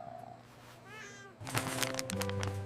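A cat meows softly a couple of times near the start, then louder clattering and rustling noises take over with a steady hum underneath.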